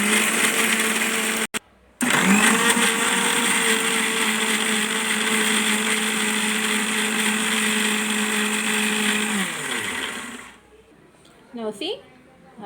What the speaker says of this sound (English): Now for a minute we will grind this and then we are going to add the prawns into it.